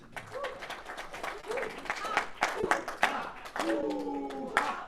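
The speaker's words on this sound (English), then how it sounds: "Can you hand out an applause for Toastmaster Pranali, please?" Audience at a Toastmasters club meeting claps for a Toastmaster, moderate applause under and between spoken voices, with a brief tonal sound near the end.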